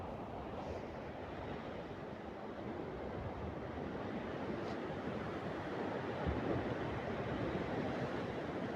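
Sea waves roll in along the shore at Pointe Langevin at sunset, a steady broadband wash of surf with gusts of wind, continuous and moderately near with no talk.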